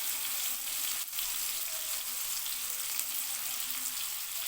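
Food fries in a pan with a steady, hissing sizzle that stays even and close, occasionally disturbed by a faint stir, and no one speaks.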